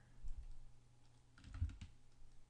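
Computer keyboard typing a shortcut while working in Blender 2.0 software: a few soft key clicks in two small bursts, near and quiet, with no talking.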